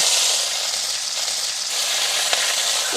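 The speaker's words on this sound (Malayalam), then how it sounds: "എണ്ണ നന്നായിട്ട് ചൂടായിട്ടുണ്ട്. ഇതിൽ നമുക്ക് ഇഞ്ചിയും വെളുത്തുള്ളിയും നന്നായിട്ട് ചതച്ചതിട്ട് കൊടുക്കാം." Crushed ginger and garlic frying in hot coconut oil for a Kerala-style chicken curry, a loud, close, steady sizzle with a dense hiss that stays even for the full few seconds, no voices.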